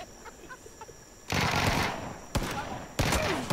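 Pistol gunshots in PUBG crack loudly three times, at roughly one-second intervals, after a quieter stretch of faint game noise.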